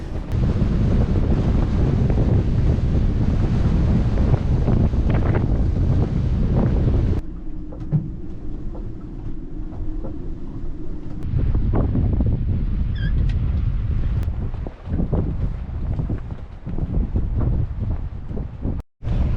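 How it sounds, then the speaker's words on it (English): Wind blows over a swing-keel sailboat lying at anchor, a steady loud rumbling buffet against the microphone that drops to a calmer hiss midway before gusting up again. "There is some wind this morning, but not as much as yesterday."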